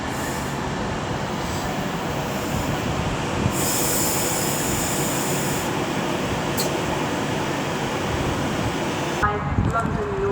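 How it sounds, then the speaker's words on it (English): An Avanti West Coast train departing Milton Keynes Central on the West Coast Main Line rumbles close by. Its wheels squeal and the wagons roll steadily throughout, with brief higher screeches from the rails and a change in the noise near the end. "392127 is now getting ready to depart with the 1450 Avanti West Coast service"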